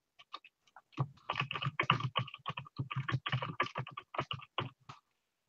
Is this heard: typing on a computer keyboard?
yes